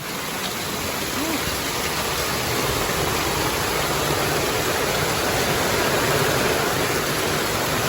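Typhoon Carina rain comes down hard in a thick, rushing wash of water that swells slightly louder toward the end, steady and continuous with no voices.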